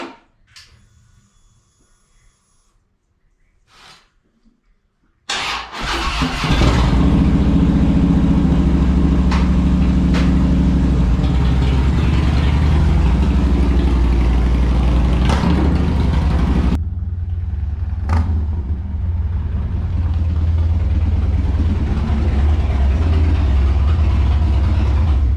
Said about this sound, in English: We're going to take this thing up the road real quick.